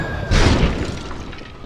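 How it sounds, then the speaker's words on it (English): A single cannon shot bursts out as one deep, loud boom, then decays into a rumbling tail over about a second. "I think that's the cannon"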